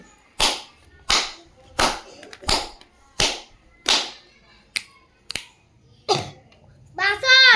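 Sharp finger snaps and hand claps spaced in an even rhythm during a children's classroom counting game for a grade-2 maths lesson on patterns, about ten crisp hits, with a voice answering at the end.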